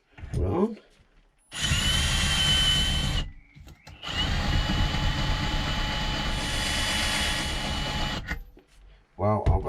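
A cheap Tianse external chamfer deburring tool spins against metal in two long bursts of loud, harsh whirring and grinding with a short gap between them. A voice is heard briefly at the start and at the end.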